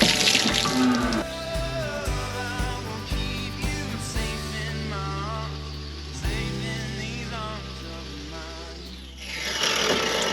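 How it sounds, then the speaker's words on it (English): Water is doused over a big Hereford bull with a sore foot to clean it, a continuous splashing, gushing flow with shifting tone over roughly ten seconds, fairly close, with no talk. "let's just go for the old traditional good old douse of water over her to give her a good clean"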